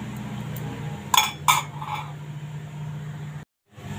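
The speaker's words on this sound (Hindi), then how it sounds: "ढक के रख देंगे इसको" Two sharp metallic clinks ring out as a utensil is set over a pan of matar paneer simmering on low heat, over a steady low background hum.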